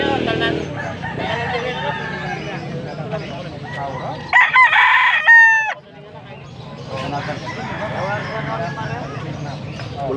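A stag rooster lets out a clear, close cock-a-doodle-doo crow in the middle of the clip at an outdoor fowl sale in Angeles, Pampanga, with people talking throughout before and after it.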